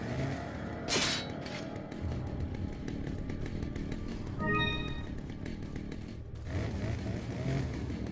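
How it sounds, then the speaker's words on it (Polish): A chainsaw-wielding enemy in Resident Evil 4, set in a mine, revs from somewhere above, a steady buzzing engine drone with a sharp burst near the start and rising whines later, heard alongside game ambience. "Okej, typ z tą piłą mechaniczną jest gdzieś tam na górze"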